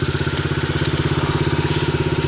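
A Honda XR50 motorcycle engine, freshly given a top end rebuild, runs steadily at a fast idle close by, its rapid even putter continuing throughout with no voices.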